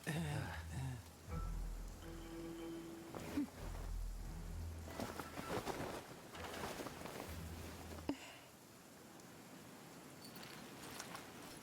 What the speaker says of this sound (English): Did she make it rain?